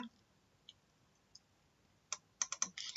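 Computer mouse clicks: a few faint, sparse clicks early on, then a quick run of sharper clicks near the end, close and quiet with no talking.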